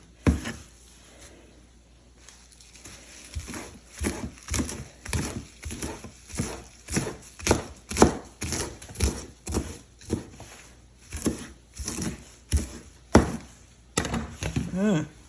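A knife chops kale on a cutting board in a steady series of sharp close knocks, some bursts quicker than others, with brief pauses between runs of cuts.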